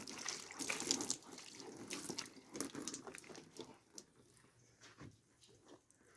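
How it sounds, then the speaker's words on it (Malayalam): Water is poured over a scooter to wash it, making faint, intermittent splashes and trickles that fade toward the end, with no voices. "ആദ്യം തന്നെ നമ്മൾ ജസ്റ്റ് വെള്ളം ഒഴിച്ചൊന്ന് കഴുകണം."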